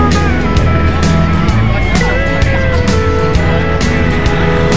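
Cars and buses roll off the Starhorse Shipping Lines ferry Virgen de Peñafrancia XII, loud engine rumble and revving over clattering ramp noise, with passengers chattering in the background.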